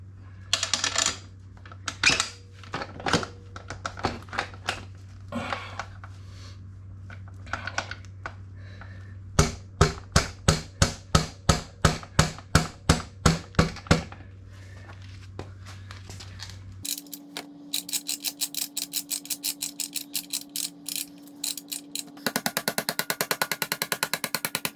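Metal clicks and scrapes from fitting the rear axle through the swingarm and wheel of a Yamaha R1, with a quick run of sharp ticks and a steady faint hum behind, then a denser stretch of rapid clicking.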